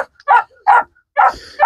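A small dog yaps in short, sharp, close barks, four bursts spaced evenly about every half second with quiet gaps between them, and no voices underneath.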